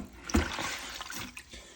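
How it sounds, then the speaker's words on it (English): Water is sopped out of a toilet bowl with a rag during a toilet replacement, giving a brief close splash and slosh followed by softer trickling and dripping. "Just get the water out of the bowl."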